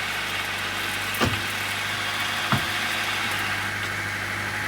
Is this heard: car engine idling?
yes